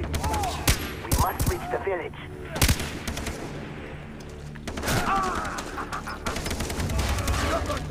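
Gunfire in the video game Far Cry 3, with repeated sharp shots and bursts in bursts over a busy game soundscape, while a voice talks and shouts between the shots.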